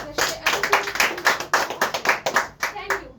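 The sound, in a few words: audience applause for a guest leader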